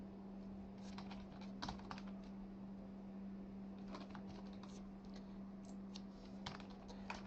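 A password is typed on a computer keyboard in quick, light, clustered keystrokes with short pauses between bursts, close and quiet over a steady low electrical hum.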